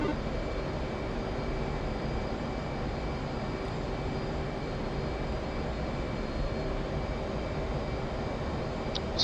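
Fixed-wing aircraft engine in DCS World climbing toward altitude, a loud continuous droning roar with a steady tone throughout and no talk.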